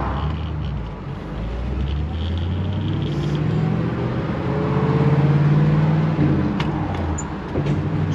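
A V8-powered car's engine rumbles and builds as it pulls out after another car passes, a steady low drone swelling louder midway, with faint passing traffic around it.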